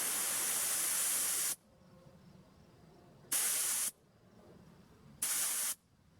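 Bear spray discharged outdoors in three loud hissing bursts: a long first blast, then two shorter ones after pauses, with quiet background between them.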